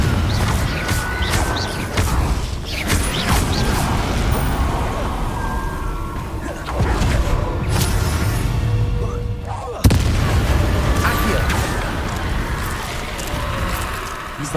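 Repeated fiery blasting-spell explosions in the Hogwarts Legacy game, loud booming bursts over continuous rumbling combat noise, with a sharp heavy impact near the ten-second mark.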